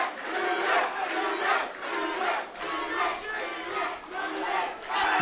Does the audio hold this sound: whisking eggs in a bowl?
no